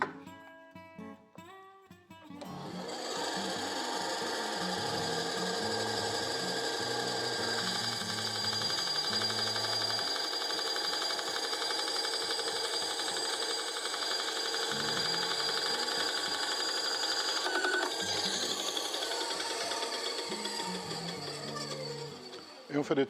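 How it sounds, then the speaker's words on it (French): Band saw slicing pink ivory wood into thin slices just over 3 mm thick, a loud continuous whining drone after a brief start-up clatter, running steadily for about twenty seconds and winding down at the end. "On a réglé la scie ruban pour faire des tranches d'un peu plus de 3 mm."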